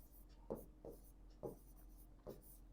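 Chalk or marker taps and strokes as a teacher writes an equation on the board, four quiet distinct scratches spaced about half a second apart in a hushed room.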